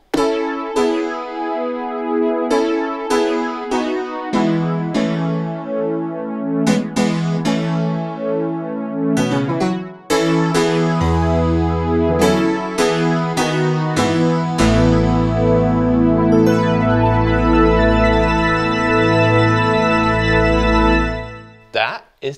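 A Nord Piano 5 digital piano plays a full, loud passage of chords and melodic runs, with deep bass notes sustaining underneath in the later half before a sudden cutoff.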